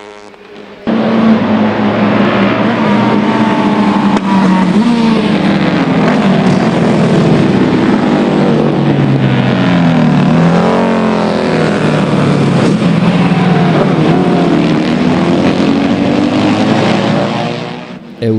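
Historic vintage motorcycles race on the Holíč castle circuit in Slovakia during the international championship of historic motorcycles. Engines roar loudly and without a break, surging and fading as bikes pass close by.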